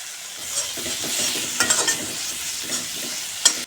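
Garlic, ginger and tomato paste masala frying in a pan, a steady close sizzle with scraping stirs and a few sharper clinks of the utensil, no voices.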